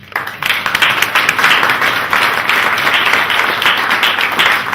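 An audience at an arts event in Le Lonzac breaks into loud applause after a short quiet start, a sustained, dense clapping that carries on steadily to the end.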